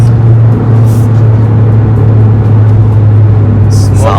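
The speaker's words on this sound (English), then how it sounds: "Oh, sound as well, the exhaust." A 2020 Toyota GR Yaris Morizo Selection fitted with an aftermarket exhaust drones loudly and steadily from inside the cabin while driving, a constant low engine hum with a voice speaking briefly over it.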